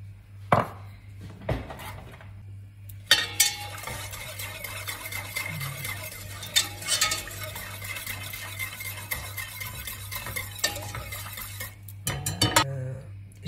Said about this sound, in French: J'ai 70 g de sucre que je vais mélanger